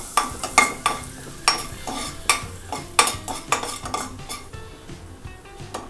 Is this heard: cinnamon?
yes